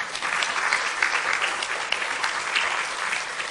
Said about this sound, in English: Could you give Sue and Moira a round of applause